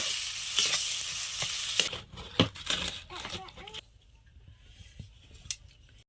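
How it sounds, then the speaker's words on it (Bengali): Spiced potato filling with coriander leaves is stir-fried in a pan, with dense sizzling and spatula scrapes at first that thin out into quieter, sporadic scraping and crackles. "এবার একটু আমি ধনে পাতাটা দিয়ে কষিয়ে নেব"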